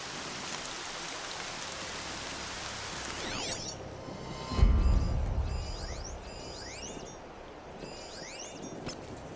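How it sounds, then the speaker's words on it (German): Rain falls in Horizon Zero Dawn as a continuous hiss of drops, joined midway by a deep rumbling thump around the fifth second and scattered bright chirping game sounds afterward, with no voices. "Noch mehr Regen. Meine Stiefel werden ganz nass."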